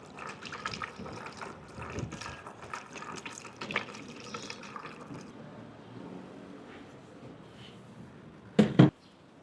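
Premium gasoline pours through a funnel into the fuel tank of a Bajaj Pulsar N125 motorcycle, a soft, steady trickling and gurgling of liquid that ends with a couple of louder knocks near the finish.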